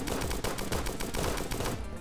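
Pistol fire from the Starbound video game, rapid loud shots cracking in a dense, continuous volley that fills the whole stretch before cutting off near the end.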